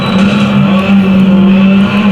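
A rallycross car engine in the Dirt Rally video game, a loud, steady low-pitched drone held for a couple of seconds with faint tire noise and no voices.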